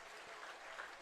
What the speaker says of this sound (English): gets a nice round of applause